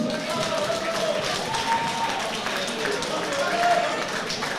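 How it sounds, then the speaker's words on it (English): An audience at the Beath Boxing Club home show applauds a boxer in a steady, dense wash of clapping that lasts throughout, with voices carrying over it. "Ladies and gentlemen, can you applause for his opponent"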